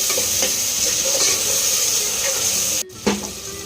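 Tomatoes with salt frying in a pan, a loud steady hiss and sizzle with soft stirring scrapes, briefly cut off before a spatula knock and the sizzle resuming.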